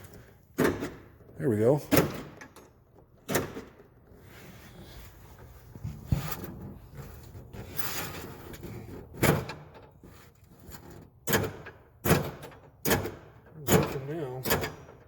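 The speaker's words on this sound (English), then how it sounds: "actuate the door lock" Rear door lock on a 1979 Lincoln Continental Town Car with the door panel removed, actuated repeatedly, giving sharp mechanical clunks and clicks spread across the stretch, close, with someone talking briefly.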